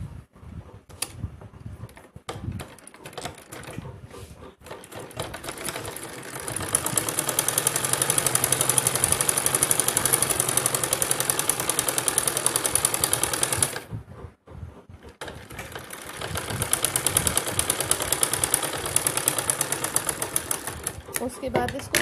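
A sewing machine stitching blouse fabric for a half-inner fancy blouse, running in long loud whirring bursts with a brief pause midway, while a voice talks over it.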